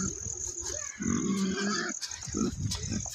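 A pig grunts on a muddy village road, a few loud close oinks and snorts over outdoor background noise.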